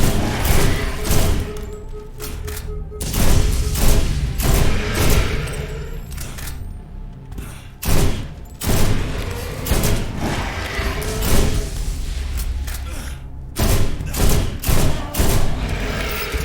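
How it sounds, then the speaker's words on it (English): Assault rifle gunfire in the Borderlands video game: loud, dense bursts of rapid shots and thuds, repeated in volleys with short gaps, close and dominating the mix. "Assault rifles definitely doing better."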